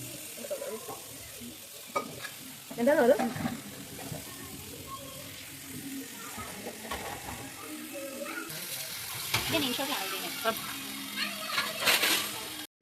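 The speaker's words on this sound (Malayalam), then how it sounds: "ഇനി നമുക്കത് ഫ്രൈ ആക്കണം അതിനുള്ള പരിപാടിയാണ് കേട്ടോ ദേ ഇവിടെ നടന്നുകൊണ്ടിരിക്കുന്നത്" Pre-boiled pathiri fry in a pan, giving an uneven sizzle with stirring and scraping clatter and a louder burst early on, while voices murmur faintly in the background.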